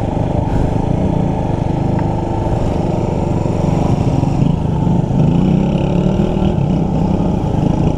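A motorcycle engine labours loudly and continuously up a steep, muddy road toward Barangay Diampak, droning close by with small surges in pitch as the rider works the throttle, and no speech.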